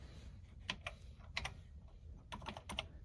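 Keys clacking on an Atari 800 home computer keyboard, a few separate sharp presses in small clusters, close and fairly quiet with no talk.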